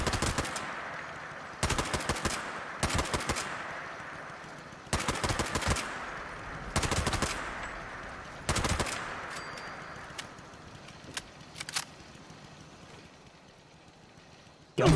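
Gunfire from a weapon in the video game Fallout 76: repeated short bursts of rapid shots spaced a second or two apart, loud and close, thinning into sparse single cracks over a low hum.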